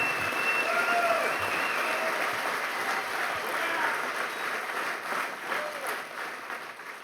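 Sustained audience applause after a keynote speech at an honors event, a dense, even wash of clapping from many hands lasting several seconds and slowly tapering.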